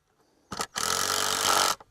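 A power drill drives screws into a strap on a Haygrove high tunnel, with one short burst followed by a longer steady whir of about a second, close and loud, then a brief tail.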